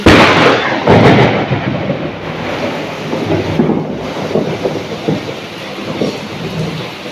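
A loud, rumbling thunderclap booms over steady rain, swelling and rolling on for several seconds before fading into the downpour.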